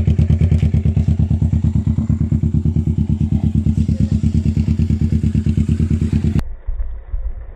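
A motorcycle engine idles close and loud with a rapid, even thumping putter that runs steadily before cutting off abruptly near the end, leaving a quiet tail.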